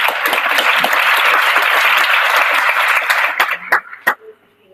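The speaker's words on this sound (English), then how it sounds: "a special clap for Amanda, please," A conference audience claps for a colleague, a loud burst of applause that thins into a few scattered final claps and dies away.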